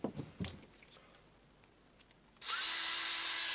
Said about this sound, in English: Now be careful, guys, when you're doing the nut driver here.